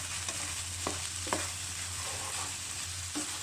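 Glass noodles stir-fried in a hot pan, a steady sizzle with a low hum beneath and a few sharp scrapes of the spatula, close and continuous with no talking.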